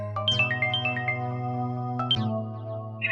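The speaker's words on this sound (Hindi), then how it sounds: "लो फिर से बज रहा है फोन।" A mobile phone rings in a room with a steady tonal ringtone melody, a repeating pattern of bright chiming notes that plays on without pause, near and clear with no talk over it.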